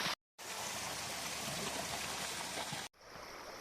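A freshwater river beside waterfalls flows in a steady, broadband rushing wash, close and continuous, cut by a brief silent gap near the start and a shift in tone near the end.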